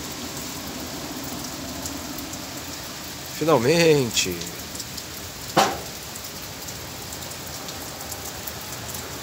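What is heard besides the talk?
rain falling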